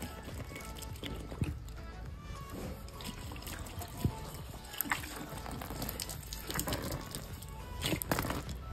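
Water poured onto a waterproof bike cover, giving a quiet trickling and splashing with a few soft thuds and drips, faint and close.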